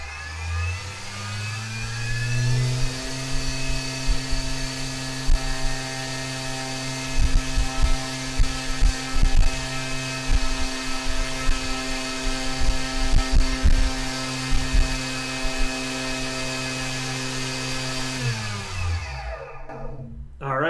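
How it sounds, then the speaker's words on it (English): Brushless electric motor spinning up under throttle, a rising whine that climbs in pitch then holds a steady loud hum with scattered ticks and rattles before winding down near the end. "now we simply just go and rotate the throttle up"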